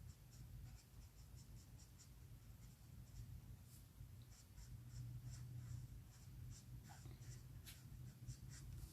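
A Copic marker colors lightly on paper, making faint, close scratchy strokes in quick repeated bursts against a quiet room hum, with no speech.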